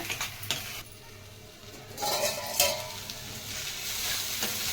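Amaranth leaves cooking in a pan over a medium flame, a steady close sizzle with bursts of stirring and a few metallic scrapes against the pan.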